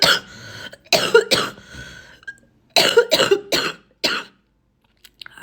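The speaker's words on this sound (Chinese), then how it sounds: "然后咳嗽还厉害" A person sick with flu coughs hard in repeated bursts, several harsh close coughs in clusters separated by short pauses, with a little throat clearing and no talk.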